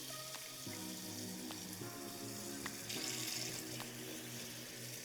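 Water runs into a pot of cauliflower in a steady close stream, a soft continuous splashing hiss with faint low hum beneath, briefly swelling louder near the middle.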